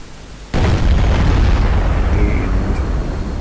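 A tank gun fires in World of Tanks, one sudden loud blast followed by a long rumbling roar that slowly fades, heard close with no voices.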